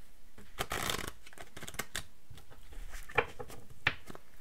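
Advice cards for a card reading being shuffled by hand, giving a quiet, close, papery riffling with quick flicks and soft taps across a few seconds.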